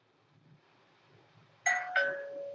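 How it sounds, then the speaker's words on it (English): Doorbell rings with a clear two-note ding-dong, struck twice in quick succession over a faint, quiet room background, with the second tone ringing out. "And the bell rang."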